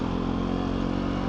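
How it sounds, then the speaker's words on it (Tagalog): A motorcycle engine runs steadily and loudly while riding on a highway in Bulacan, a close, continuous drone with no speech. "Tapos dito lang nagmo-motor."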